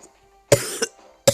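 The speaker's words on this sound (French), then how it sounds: "pourquoi je tousse souvent, c'est parce que j'ai un gros rhume" Two sharp, close coughs from a person with a bad cold, the first followed by a short raspy tail, separated by a brief pause.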